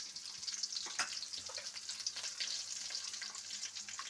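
Curry leaves, urad dal and chana dal fry in hot oil with a faint, steady sizzle and light crackle, quiet and close.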